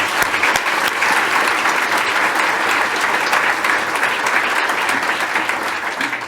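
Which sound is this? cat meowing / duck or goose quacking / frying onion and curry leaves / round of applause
round of applause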